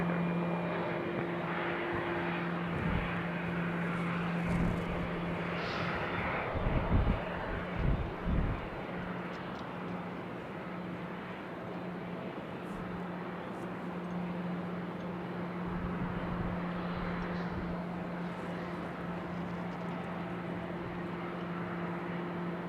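A United airliner from Chicago at Raleigh-Durham International Airport makes a steady, fairly distant jet roar that holds for over twenty seconds, with a few brief thumps partway through and no talking.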